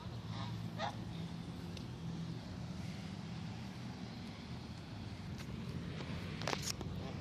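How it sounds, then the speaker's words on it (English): A goose honks on a farm, a few short calls standing out at moderate distance over a steady low outdoor rumble. "Wow, that is so fucking rare to see a goose like that if you're on a farm."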